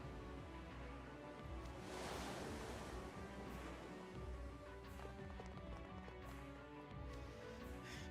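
Ocean waves wash around a ship in the video game Twisted Wonderland, a steady, faint roar of surf that swells once into a louder crash before settling back.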